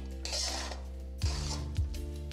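Cooked vegetable chop filling is scraped out of a kadai into a bowl, giving a few close metallic scrapes and clinks of a spoon against the pan and then a couple of dull knocks, with quiet gaps in between.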